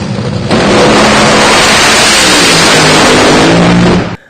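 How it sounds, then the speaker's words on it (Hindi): A drag racing car engine roars at extreme volume, a sustained, overwhelming blast that kicks in abruptly, holds steady for several seconds, then cuts off, with no talking. "ड्रैग रेसिंग कार 150 डेसिबल का खतरनाक साउंड पैदा करती है"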